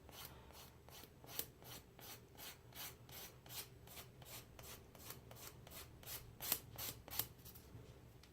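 Nail filed with the lightest-grit file at a 45-degree angle to bevel the edge: quiet, steady rhythmic rasping strokes, about two per second, close and soft with no talk.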